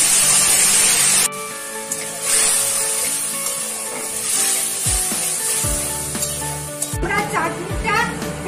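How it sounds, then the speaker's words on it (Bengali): Mango pulp poured into a pan of hot oil with whole mustard seeds and dried red chillies for a spicy chutney, giving a loud burst of sizzling and spattering that settles into steady frying with stirring scrapes. "এবার এই যে আমরার পাল্পটা করে রেখেছি, এটা এবার আমি এর মধ্যে ঢেলে দিচ্ছি।"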